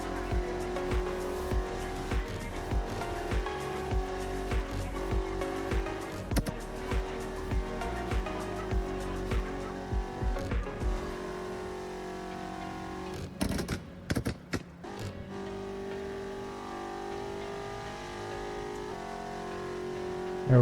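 A BMW X5M in the No Hesi driving game roars along aggressively, its engine droning continuously with revs rising and falling and bursts of tire squeal partway through.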